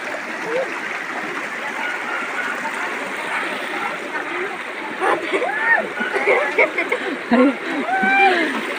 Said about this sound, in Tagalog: Lagaslas ng tubig.